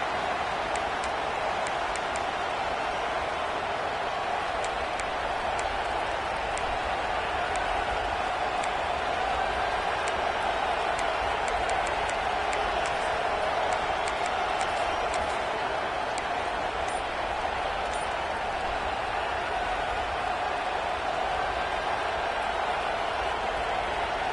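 A football stadium crowd cheers in a continuous, broad roar that stays steady and fairly loud for the whole stretch, with occasional faint whistles or shouts rising above the wash.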